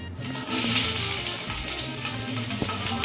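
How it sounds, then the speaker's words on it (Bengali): Black cumin seeds, onion and chopped chili hitting hot oil in a pan set up a loud, steady sizzle that swells after a brief start and holds close and continuous throughout, with faint clinks underneath. "তেল গরম করে নিয়েছি, তার মধ্যে দিয়ে দেবো হচ্ছে কালো জিরে, তারপরে দিয়ে দেবো পেঁয়াজ আর লঙ্কা কুচি"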